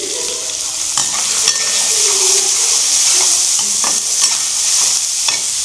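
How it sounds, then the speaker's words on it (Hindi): Onion and peas fry in a pan with a constant close hiss and crackle, punctuated by several distinct stirring scrapes spaced a second or so apart, no voices over it. "तो भाई अब डाल देते हैं इसमें प्याज और ये मटर।"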